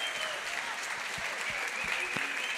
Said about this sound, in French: Tonnerre d'applaudissements pour Byron Keller.